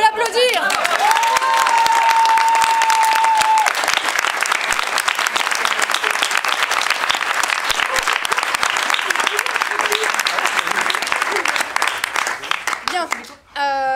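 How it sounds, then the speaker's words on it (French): An audience gives sustained, loud applause to a member of an amateur theatre troupe after a Gogol-inspired play. Voices mingle with the clapping, a brief whistle-like tone rises early, and the ovation tapers at the end. "On peut l'applaudir."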